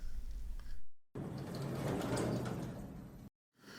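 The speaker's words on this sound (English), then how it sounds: "as the elevator doors opened" Elevator doors slide open with a steady whooshing rumble lasting a couple of seconds, broken by brief dropouts at either side.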